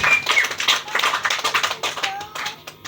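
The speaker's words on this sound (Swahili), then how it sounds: "Pigia Yesu makofi mazuri." A church congregation claps for Jesus in quick, uneven bursts of many hands, lively and close, with voices mixed in amid the clapping.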